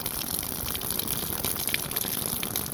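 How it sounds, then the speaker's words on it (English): Water gushes steadily out of an opened bottom valve as a garden hose pipe drains, a loud, continuous splashing rush close by. "Now what we get to do is we get to open the bottom valve here. You're gonna watch water spill out."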